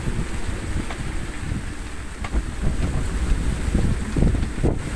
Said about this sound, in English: the wind is howling through the rigging because of its speed